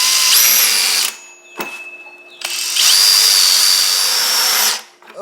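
A power tool cuts into a plastic bucket for a homemade automatic chicken waterer, in two loud sustained bursts of whining, rasping cutting separated by a brief pause and a short blip, with no talking.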